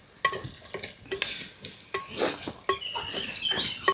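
Onions and green chillies, salted, fry in a pan for bitter gourd pulusu, heard as repeated spatula scrapes and knocks against the pan over a light sizzle, close and moderately loud.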